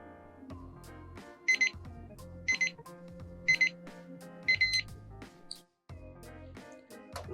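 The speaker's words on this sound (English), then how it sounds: "now we hit our timer and it's going to go for 4 minutes" Digital lab timer started during H&E staining of tissue sections, giving four short bursts of high electronic beeps at roughly one-second intervals over a steady low hum of lab background.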